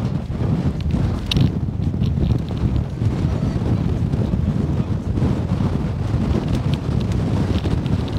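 Strong wind buffets the microphone in a steady, loud rumble at a seashore while fishing, with faint surf or water sounds underneath and no talking.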